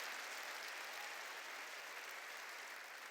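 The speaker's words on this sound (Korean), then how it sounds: "박수치며 깨달으라 이게야." A church congregation applauding during a sermon, a steady, dense wash of clapping that holds evenly for about three seconds with no voices standing out.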